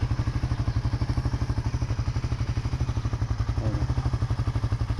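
A motorcycle with 52,000 on the odometer idles right after a one-click start, a close, loud, evenly pulsing engine putter holding a steady rhythm throughout.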